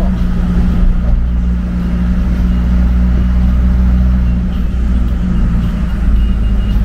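A car overtakes on a winding road in Colombia, heard as a loud, steady engine drone and road rumble from inside a vehicle, holding constant throughout with no voices.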